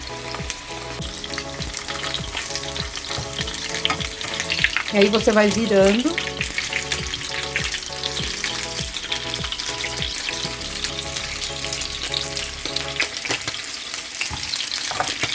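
Beef feet (mocotó) searing in a pan give a loud, steady sizzle and frying crackle throughout, with someone speaking briefly in Portuguese over it.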